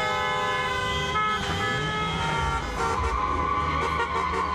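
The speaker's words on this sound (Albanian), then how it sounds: "ndërsa borit e makinave zgjuan kryeqytetin" Car horns honk in celebration in a capital city after a football match, several loud overlapping horn blasts over steady traffic noise, sustained throughout.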